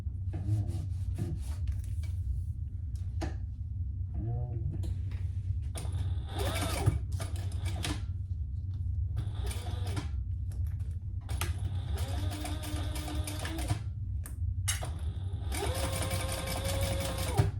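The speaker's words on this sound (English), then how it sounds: "let's sew down." Sewing machine sewing down a bag, running in repeated bursts of rapid, close stitching with short pauses between runs, loud and steady throughout.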